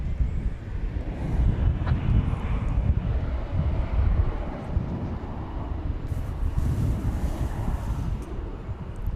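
An airplane takes off at night at DFW Airport, a loud, continuous, broadband engine roar with gusty wind buffeting the microphone throughout and no talking.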